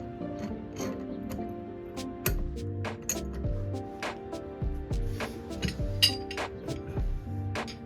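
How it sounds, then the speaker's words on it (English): Repeated metallic clinks and clanks from a slide hammer with a 3-jaw puller knocking together during a Mercury 650 65hp outboard lower unit rebuild, close and fairly loud, coming in irregular bursts over a steady low hum. "you need a slide hammer with a 3-jaw puller"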